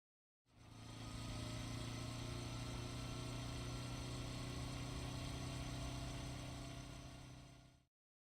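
Motorbike engine idling steadily in the video game Raging Loop, a continuous low rumble with a strong hum that holds evenly for several seconds before cutting off.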